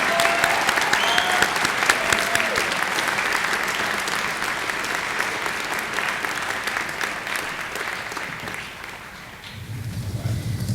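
Sustained applause from an audience at an honors convocation, congratulating graduating class members and student honorees, dense steady clapping that holds for about nine seconds before thinning briefly, then swelling again.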